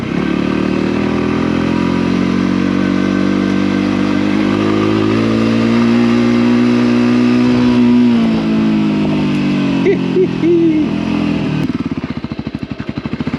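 Off-road motorcycle engine running steadily while riding over a bumpy dirt track, loud and close, with pitch rising and falling as the throttle changes and rattling clatter near the end.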